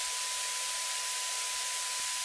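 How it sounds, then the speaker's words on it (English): A white noise test signal playing at full peak level, a constant loud hiss with no change from start to end. "this white noise is playing at its full peak level"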